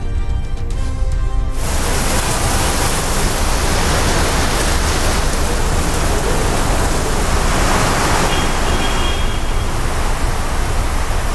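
Heavy rain falls as a loud, dense, steady wash that runs on continuously after a brief different sound at the start.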